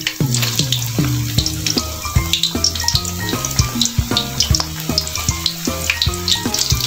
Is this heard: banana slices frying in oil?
yes